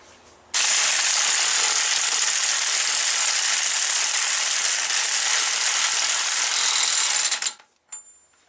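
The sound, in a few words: impact wrench snugging a wheel bearing bolt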